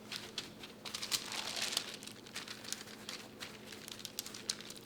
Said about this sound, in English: go ahead and pat it dry with a paper towel